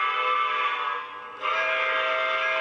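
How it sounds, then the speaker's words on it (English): A model train sound system sounds a steady chord-like whistle, dipping briefly midway before resuming loud and sustained, with no talk. "Then the whistle."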